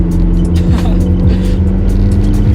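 A lowered car's engine drones loudly and continuously nearby, its pitch sliding up and down as the car drives and revs.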